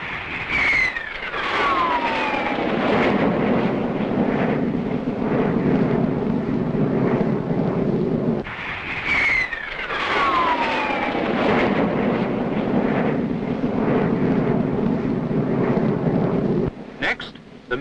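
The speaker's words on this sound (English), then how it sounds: "The Saunders Row naval fighter doesn't seem to mind which way up it flies." Saunders-Roe jet flying boat naval fighter with twin Metropolitan-Vickers axial-flow turbojets making a fast pass, a loud sustained jet roar that sweeps in pitch, repeats in a second pass, then cuts off abruptly, with no talk.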